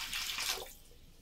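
Warm water pours briefly into a bowl during food preparation in an African village kitchen, a short soft splash that fades within about a second, faint and close.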